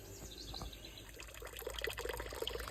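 Water pours into a garden pond pot, a close, bubbling trickle that grows slightly stronger, with faint bird calls in the background.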